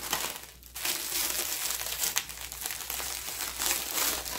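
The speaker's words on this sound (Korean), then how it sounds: "그리고 김을 반으로 이렇게 딱 접어주세요." A plastic bag of packaged seaweed (gim) crinkles and crunches continuously as it is folded in half and pressed, close up, with a brief pause near the start.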